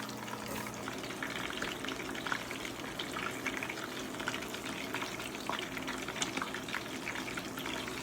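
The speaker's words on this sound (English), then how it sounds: "Fish not hard to fry" Jamaican escovitch fish frying in a pan, a constant crackling sizzle with bubbling oil, steady and fairly close, with no talking.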